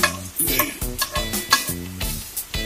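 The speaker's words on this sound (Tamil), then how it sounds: "கிராம்பு வறுத்துக்கலாம்." Whole cloves dry-roasting in a pan for homemade garam masala, with a steady dry rattle and scrape as the spices are stirred in repeated strokes, close and fairly loud with no talk.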